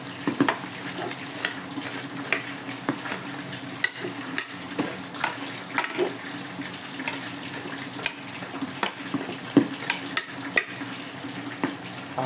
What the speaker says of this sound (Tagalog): Haluin na lang natin yan.